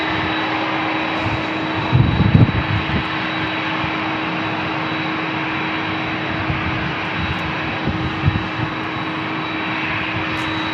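An arriving airliner at San Diego International Airport roars steadily from a distance, a broad continuous engine wash with a few low thumps early on and no talk.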